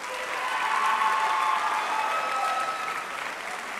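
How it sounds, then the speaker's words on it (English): A room full of people applauds the Drew University men's and women's fencing teams at a sports awards ceremony, a steady dense clapping that stays even throughout with faint cheering mixed in. "A huge round of applause for the Drew men's and women's fencing teams"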